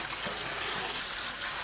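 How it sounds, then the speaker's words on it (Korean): Cold water runs steadily over blanched eomnamu shoots during rinsing, a continuous close rushing and gushing from a tap or stream of water. "후 찬물에 헹궈서 뜨거운 열을 없애줍니다"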